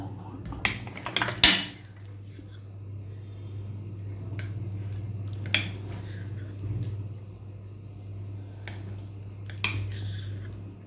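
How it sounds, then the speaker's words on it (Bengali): A knife slices a 200 g block of Amul paneer on a board for paneer tikka, giving a few sharp taps and scrapes clustered early, then sparse single clicks over a steady low kitchen hum. "এবার আমি 200 গ্রাম পনির নিয়ে নিয়েছি আমুলের, যেটাকে আমি স্লাইস করে কেটে নেব"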